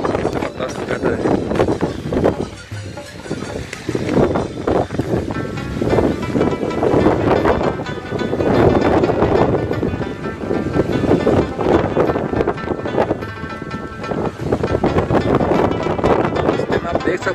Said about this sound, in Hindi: बहुत ठंडी ठंडी हवा चल रही है